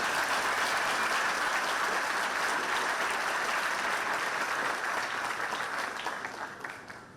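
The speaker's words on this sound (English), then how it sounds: "Can we just give them another round of applause" A large audience at a world ranger congress in Sauraha, Chitwan, Nepal, claps in sustained, dense applause that holds steady for most of the stretch before tapering off over the last second or two.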